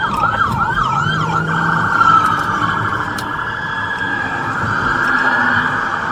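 Police car siren during a highway pursuit, wailing loudly and sweeping up and down in pitch, with road and engine noise underneath and no voices.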